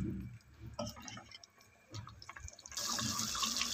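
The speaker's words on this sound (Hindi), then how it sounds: "अब चिकन में आधा कप पानी का डाल देते हैं" Half a cup of water is poured into a pan of chicken cooked with yogurt for chicken dopyaza. Faint kitchen clatter comes first, then a steady, louder splashing pour that fills the final second.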